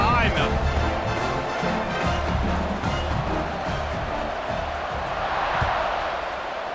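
A stadium crowd in EA Sports College Football 26 keeps up a dense, steady roar throughout, with a commentator talking over it.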